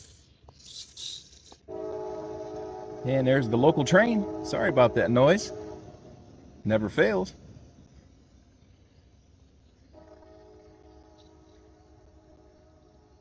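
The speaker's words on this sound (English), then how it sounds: "And there's the local train. Sorry about that noise." A local train passes, sounding its horn in several long blasts, loud and near, with a low rumble of the train under it and someone briefly talking.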